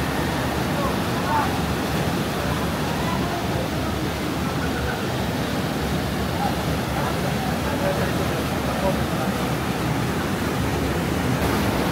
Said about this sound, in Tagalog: Ito pala yung falls.